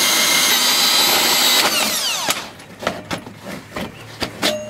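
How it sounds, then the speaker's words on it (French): A power drill whines loudly as a hole saw cuts into a rainwater collection tank, then winds down, followed by several sharp knocks and clatters of the tool. "Pour la suite, une petite scie trépan pour couper."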